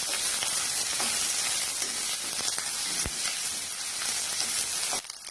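Onions and five or six green chillies sauté in a hot pan, giving a loud, dense, continuous sizzle close by that cuts off abruptly near the end.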